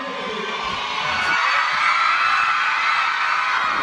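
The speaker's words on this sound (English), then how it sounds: "Listen to that crowd, man." A crowd cheers and shouts at a BTS live event, a dense, bright wash of voices that swells slightly and stays sustained throughout.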